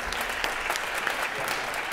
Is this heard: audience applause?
yes